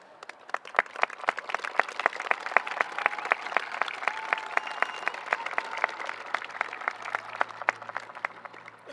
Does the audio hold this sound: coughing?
no